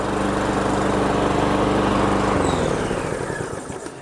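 A walk-behind four-stroke Daewoo petrol lawn mower engine drones steadily up close, then its pitch drops and fades as it winds down near the end.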